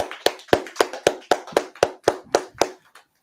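An audience at a regional climate startup pitch final applauds with sharp, evenly spaced claps, about a dozen crisp beats, fairly close and with no talk over them.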